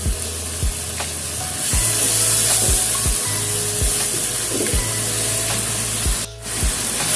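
Steady frying sizzle with a broad hiss as fried jengkol beans cook in a sweet-spicy sauce, punctuated by repeated low knocks of a utensil stirring in the pan at an even pace.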